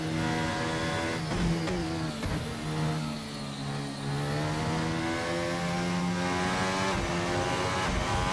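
A Formula Hybrid 2017 race car in Assetto Corsa lapping the Nordschleife, its high engine whine rising and falling through gear changes as it corners, loud and steady with no voices.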